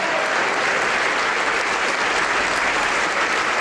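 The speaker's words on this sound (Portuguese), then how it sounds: "vamos aplaudir mais." A church congregation applauds loudly and steadily throughout, a dense wash of clapping from a large crowd with no pauses.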